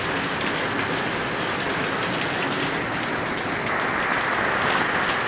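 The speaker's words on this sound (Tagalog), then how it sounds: "napakalakas na naman ang ulan dito sa Bulan, Corozon" Heavy rain in Bulan, Sorsogon, driven by the northeast monsoon, pours in a dense, continuous roar that stays loud and unbroken throughout.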